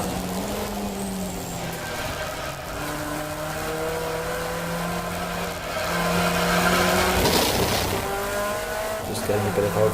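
A race car's engine at Brands Hatch GP revs hard under committed throttle through a corner, a loud, steady harmonic drone with rising pitch toward the end, as a voice talks over it.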